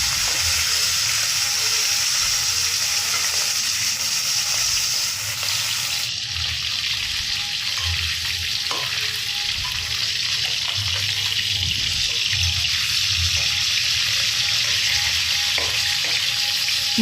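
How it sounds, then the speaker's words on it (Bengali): Pomfret pieces fry in a small amount of oil, giving a steady close sizzle and crackle throughout, with low rumbling and a few light knocks and scrapes from the pan, no speech. "মাছগুলো অল্প অল্প তেল দিয়ে ভালো করে ভেজে নিচ্ছি"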